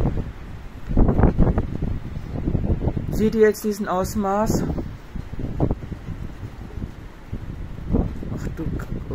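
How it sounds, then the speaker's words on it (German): During Orkan Zoltan, strong storm gusts roar and buffet the microphone in surging waves, loud and close, while people talk excitedly over the wind. "Jetzt kommt wieder so eine scheiß Böe."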